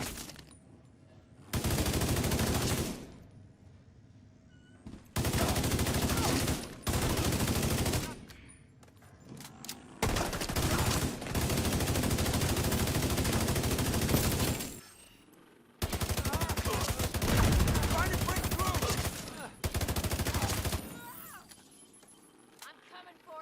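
Bursts of assault-rifle fire in The Division 2, several long sustained volleys of rapid automatic shots close up, separated by short pauses, with voices talking in between.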